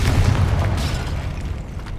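A Confringo spell blast in Hogwarts Legacy, a loud booming explosion that rumbles at the start and then decays into a fading crackle over about two seconds.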